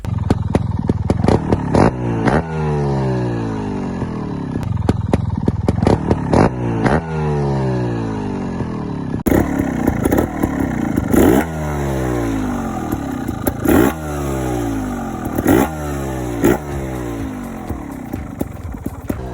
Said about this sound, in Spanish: una caja del filtro que elimina el sonido bronco que tiene la Vértigo del chupetón de aire